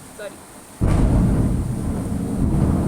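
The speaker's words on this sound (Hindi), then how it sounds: "बिजली कड़की थी, सॉरी।" Thunder cracks suddenly and loudly during a storm, then settles into a heavy, sustained rumble that fills the rest of the clip after a faint, quiet start.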